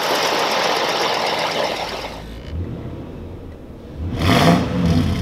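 A 2004 Nissan Pathfinder Armada's 5.6 liter V8 runs close by, a loud steady whir that drops back, then swells briefly as the engine revs before settling.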